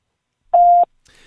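Orange voicemail tone: one clean, steady electronic beep of about a third of a second, loud and close, followed by a faint start of a caller's line noise.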